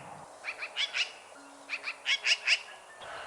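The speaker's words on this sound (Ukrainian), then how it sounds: "сорока." A magpie calls in two quick bursts of harsh, chattering notes, four or five short rasping calls in each, fairly close and clear against quiet background.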